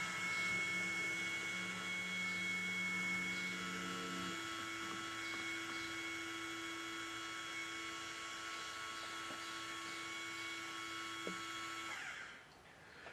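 A Rev2.5 7500 water softener control valve motors through its cycle to the brine slow-draw position. A steady mechanical whine with a tone that shifts partway through runs for about twelve seconds, then stops.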